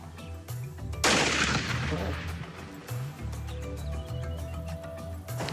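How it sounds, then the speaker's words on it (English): At an outdoor shooting range a single loud rifle shot cracks out early, its echo rolling away over a quiet background, with a few faint thumps and distant sounds afterward. "We just went to check in the rifle in the shooting range"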